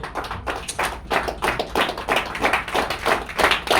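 A training-session audience claps together in a quick, steady rhythm of sharp hand slaps that carries on for several seconds at moderate loudness, with no talking over it.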